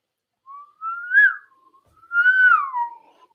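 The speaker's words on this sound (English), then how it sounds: "Because I'm an inhale whistler." Two long whistled phrases, whistled while inhaling, each gliding upward and then falling, with a brief pause between them; clear and close, with no talking.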